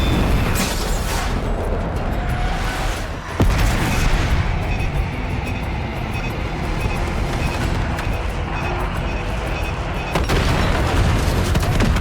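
Airstrike bombs exploding in Call of Duty Black Ops 6, a sustained, dense roar of blasts and rumbling gunfire-like booms, with sharper impacts around a few points, loud throughout with no speech.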